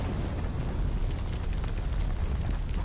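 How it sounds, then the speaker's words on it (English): Heavy artillery bombardment rumbles through a WWII Poland defense battle in the Men of War video game, with dense, continuous low booms and blasts rolling together without a break, loud and sustained. "heavy artillery bombardment"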